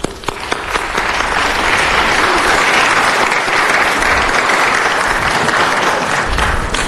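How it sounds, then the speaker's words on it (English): A loud, full round of applause from the audience at a city council meeting, continuous dense clapping from start to finish. "So let's give Mary a round of applause."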